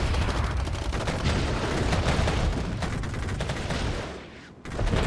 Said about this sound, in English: Here comes the artillery.